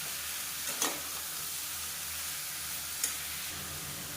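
Ridge gourd and tomato sauté in a pan with a steady, even sizzle throughout, broken by a couple of brief scrapes of a stirring spoon, with no talking.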